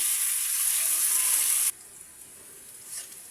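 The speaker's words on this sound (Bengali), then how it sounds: "আলুগুলো এখন ভেজে নেব ভালো করে লাল লাল করে ভেজে নেবো" Potato pieces frying in oil in a wok, browning, give a bright, loud sizzle that stops abruptly partway through, leaving a quiet, faint background with a small clink near the end.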